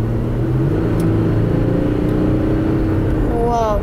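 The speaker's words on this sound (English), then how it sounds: "I'm going to step on the gas hard" Audi 3.0 TDI diesel engine pushed under hard throttle, a steady loud low drone and rumble that holds for several seconds, with a rising whine near the end.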